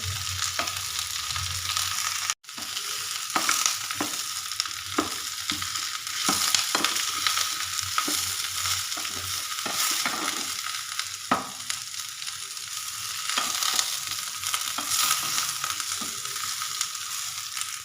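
Cauliflower, carrot and radish pieces sautéing in hot oil for a sweet pickle: a steady, close sizzle with intermittent scraping stirs and clacks, no talking.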